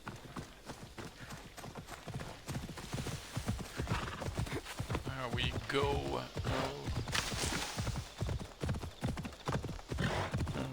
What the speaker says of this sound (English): Actually, let's summon my horse.